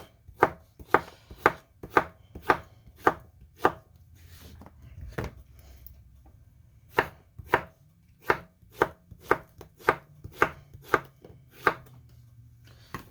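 A knife chops squash on a cutting board in crisp, evenly spaced strikes, about a dozen in two bursts separated by a short pause, close and clear with no talking.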